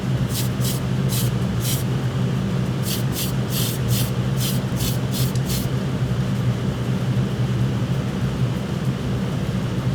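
Short hissing bursts of an airbrush spraying primer onto resin kit parts in a rapid series, heard over a constant low mechanical hum.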